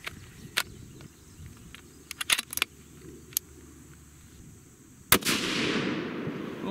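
One sharp, loud gunshot from a Sig Cross rifle in .308 Winchester firing a 150 grain Hornady CX handload over 41 grains of Vihtavuori N140, with a sustained outdoor rumble after the blast and faint clicks and handling sounds before it.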